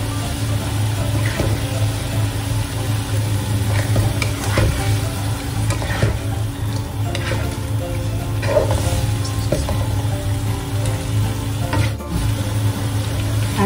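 Chilies hit a hot pan and sizzle steadily while being stir-fried for a black bean fish fillet dish, with scraping stir strokes and clattering utensil knocks running continuously and close throughout.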